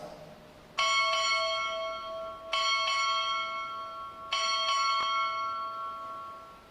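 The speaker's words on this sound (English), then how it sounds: "Strike 6 bells." A ship's bell rings out clearly in three spaced pairs of strikes, six bells in all, at a U.S. Navy ROTC graduation ceremony, each ringing tone lingering before the next pair.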